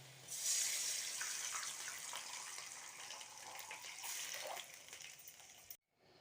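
Water is poured steadily into a cooking pot for making pacharisi upma, a continuous splashing gush that runs for several seconds, eases near the end and then cuts off abruptly.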